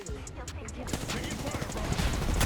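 Gunfire in a video game crackles in rapid, dense bursts, with sharp shots standing out at first before merging into a steady, loud clatter.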